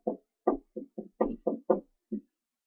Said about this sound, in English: Do you hear knocking?